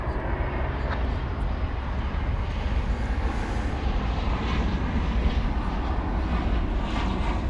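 Airliner taking off from DFW airport after dark, a steady broadband jet roar with deep low rumble sustained and constant throughout, fairly distant and continuous with no other distinct sounds.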